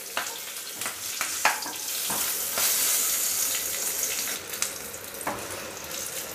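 Curry leaves and green chillies hit hot oil for a vegetarian doi begun dish, a loud spitting sizzle broken by sharp crackles and spoon scrapes, a denser hiss swelling midway, close up with no voices.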